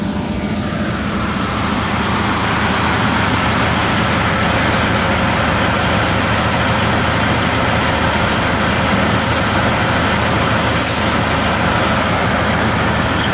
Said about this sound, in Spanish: Muy bonitos camiones que traen estos compas.